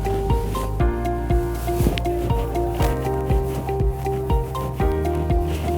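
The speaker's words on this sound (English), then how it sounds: "I'm rubbing the board." A classroom board is rubbed clean with a steady run of rhythmic scraping strokes, each short, dry rasp following the last at a brisk, even pace, close by and with no talking.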